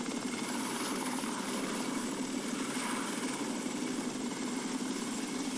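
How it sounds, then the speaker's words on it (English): Helicopter in a Jurassic Park fan video game, its rotor and engine drone steady and continuous at moderate loudness throughout, with no talk over it. "Oh my god, we found a flyable helicopter."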